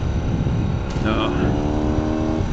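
A vintage BMW R80/7 motorcycle engine hums and revs unevenly as the rider misses gears, heard close under wind noise while someone talks.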